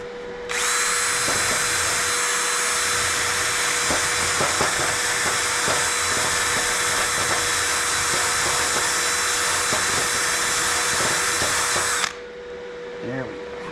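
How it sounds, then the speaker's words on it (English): Power wire brush scrubs a weld on a cast metal part, a loud, steady high-pitched whirring grind that runs close and unbroken for about twelve seconds before cutting off, with faint talk underneath. "Clean the weld up with the wire brush."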